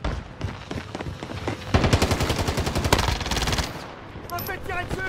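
Loud, rapid automatic gunfire in Call of Duty Warzone on Rebirth Island, sustained bursts of shots close up for a couple of seconds, with fainter shots before and after and a player's voice over the game audio.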